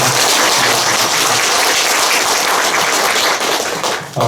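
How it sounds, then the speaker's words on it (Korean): Loud, dense applause from an audience welcoming a guest pastor to a lecture at a Buddhist winter retreat prayer event, sustained and then tapering at the end. "박수를 한번 쳐서."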